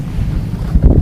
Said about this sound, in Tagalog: Ang sarap ng hangin talaga yun. Yung simoy ng hangin, ano?